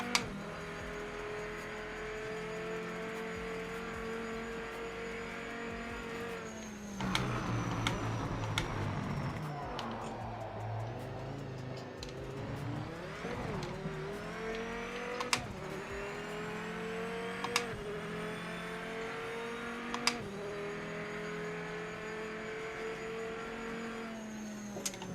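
A race car engine in the Project Motor Racing video game revs high and holds steady, its pitch dipping and climbing through gear changes around the middle. It stays loud and continuous throughout, with a few sharp clicks.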